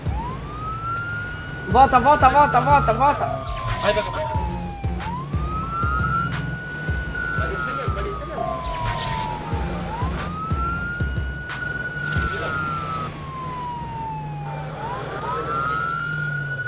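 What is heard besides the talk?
police car siren in the video game Arma 3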